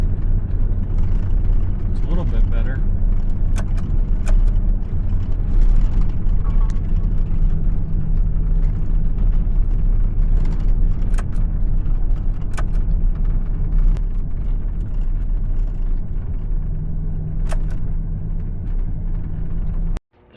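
Car fitted with Hawkglow X4 9004 LED headlights driving at night, a steady low road and engine rumble heard from inside the cabin that holds constant throughout.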